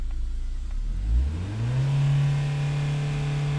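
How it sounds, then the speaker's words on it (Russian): A VAG car engine with a fault and lost power idles low, then revs smoothly up to about 4000 rpm and holds a steady, droning note, close and alone. "Вот, даю 4000 оборотов"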